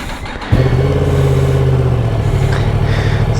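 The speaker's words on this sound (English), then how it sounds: "Sounds very good for a stock bike." A stock Yamaha MT-10 Gen 2 motorcycle engine starts and revs up sharply, then holds a loud, steady, throaty idle-to-mid rev drone close by, with no talking.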